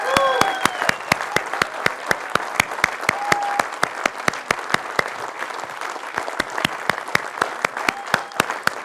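An audience at an Atomy India felicitation event applauds steadily in a hall while a guest comes on stage. Regular loud, sharp claps, likely one person clapping close by, sound over a crowd clapping farther away.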